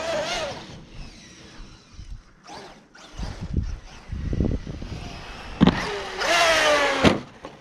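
A Traxxas Maxx Slash RC truck with VG racing springs runs and jumps on a track, its electric motor whining up and down in pitch, with thumps and rattles from landings, near and fairly loud.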